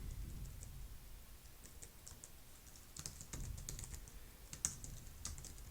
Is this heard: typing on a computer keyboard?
yes